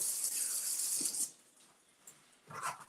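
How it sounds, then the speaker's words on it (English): Kitchen tap water runs in a steady hiss while strawberries are rinsed, then cuts off, leaving a quiet gap before brief splashing and handling noises. "I'm just going to rinse and cut these up really quick"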